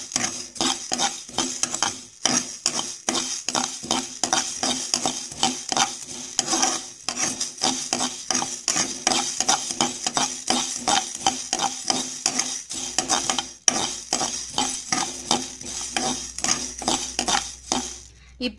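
Coriander seeds and spices dry roasting in a pan over a medium flame for sambar powder, with rapid, constant rattling scrapes of a spoon stirring the seeds against the metal, loud and close throughout.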